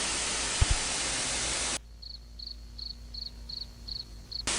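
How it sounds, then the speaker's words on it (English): A large cricket chirps in short, evenly spaced bursts, clear and fairly close against a quiet background, after a stretch of loud static hiss. "That is a big cricket."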